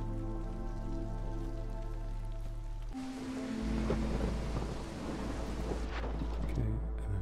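Steady rain with rumbling thunder in the Against the Storm video game, a continuous wash of downpour that swells louder partway through, under a low sustained musical drone.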